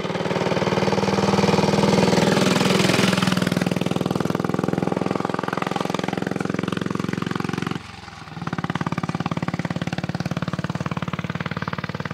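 A pre-war motorcycle engine runs steadily and loudly close by, its even beat holding through a brief dip in level before it picks up again, with no talk over it.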